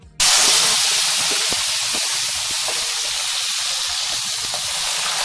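Crushed garlic, red chilies and curry leaves fry in hot oil, giving a loud, steady broadband sizzle that starts abruptly and holds without a break for about five seconds, with no voices.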